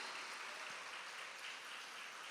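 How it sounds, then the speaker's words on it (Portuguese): A church congregation applauds in praise, with a steady wash of clapping heard faint and distant throughout, with no talk over it. "pode dar um aplauso ao nome de Jesus?"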